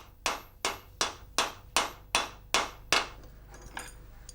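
A hand hammer strikes a copper cauldron in a steady rhythm, about eight sharp, ringing metallic blows close by, the last few fading lighter.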